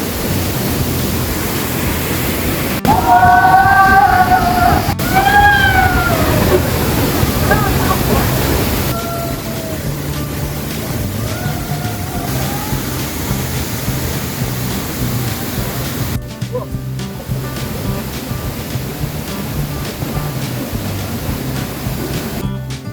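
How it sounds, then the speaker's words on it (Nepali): Lapsa waterfall, a large cascade reached on a monsoon hike, roars as a loud, continuous wash of rushing water, with people talking over it near the start. "आजको सेकेन्ड झरना अघिको भन्दा ठुलो।"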